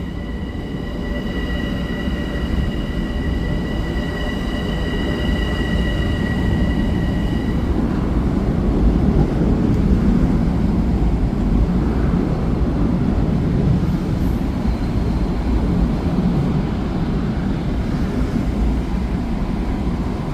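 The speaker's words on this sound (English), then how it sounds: "the 333 Babylon train is here" An M7 electric commuter train, eight cars, arriving at Babylon station rumbles loudly and steadily close by, a broad continuous roar of wheels and motors, with a high whine fading partway through.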